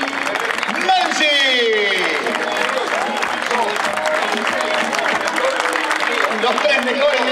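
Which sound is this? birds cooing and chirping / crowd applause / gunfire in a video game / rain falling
crowd applause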